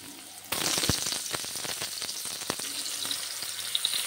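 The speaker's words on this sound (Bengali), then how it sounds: "এবার আলুটা ভাজতে হবে।" Long-cut potato pieces drop into hot oil and burst into a loud, steady sizzle that continues with crackling pops and occasional stirring clatter, close up.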